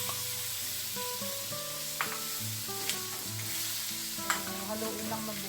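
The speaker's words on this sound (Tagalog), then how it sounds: "pwede na natin idagdag yung ating ground pork" Ground pork sizzling in a frying pan with bell pepper, stirred now and then with sharp scraping taps over a constant crackling fry and faint background music.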